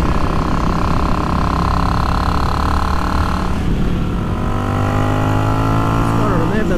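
A Yamaha XVS650 motorcycle with a Dynatek ignition accelerates, its engine loud and close with a steady droning note that dips and then climbs as the revs rise.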